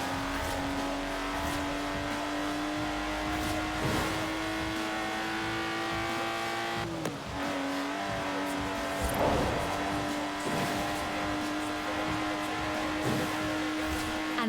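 Lotus Exige sports car driving in Forza Horizon 4, a steady engine drone with gear shifts, a brief dip and rev change midway, and tire noise throughout.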